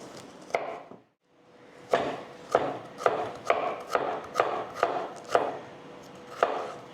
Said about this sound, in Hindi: ये अदरक काट लेंगे हम बारीक बारीक